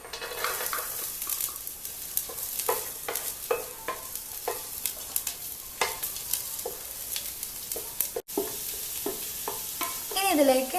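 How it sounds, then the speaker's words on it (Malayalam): Chopped garlic fries in hot oil in a pan for chilli chicken, a soft continuous sizzle under frequent clinks and scrapes of a spoon stirring against the pan. "ഇപ്പം എണ്ണ ചൂടായിട്ടുണ്ട്. ഇനി നമുക്കിതിലേക്ക് വെളുത്തുള്ളി ആക്കാം."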